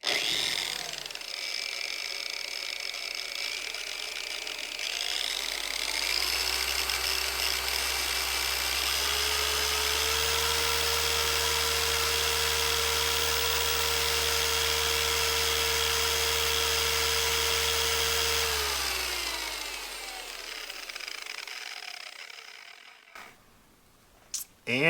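A Lake Country System 4000 pad washer spins a polishing pad dry with a steady, loud motor whine that ramps up, holds for about fifteen seconds, then winds down and stops.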